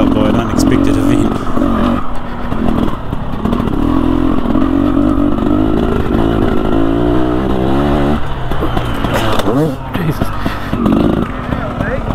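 An enduro motorcycle rides its last lap of a woodland loop into the pits, the engine loud and close throughout. It rises and falls in revs with clatter and scraping, and voices speak over it.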